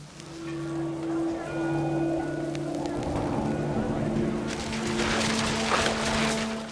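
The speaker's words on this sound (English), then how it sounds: "The rain came down in buckets then" Heavy rain in the video game What Remains of Edith Finch, a steady hiss of downpour that thickens toward the end, with a narrator speaking over it throughout.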